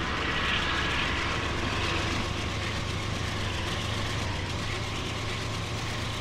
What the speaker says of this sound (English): Alright, that train's leaving the station. It's a fairly loud Metro North train.